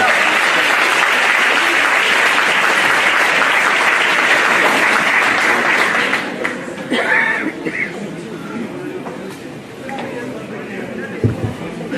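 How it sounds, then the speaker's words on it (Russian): An audience gives loud, dense applause welcoming a speaker onto a stage, sustained for several seconds before fading into scattered claps, murmurs and a few sounds from the stage. "Пожалуйста, ваши аплодисменты."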